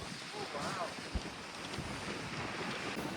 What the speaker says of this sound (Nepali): यहाँ हेर्नुहोस् त हावा चलेको कस्तो हावा चलिरहेछ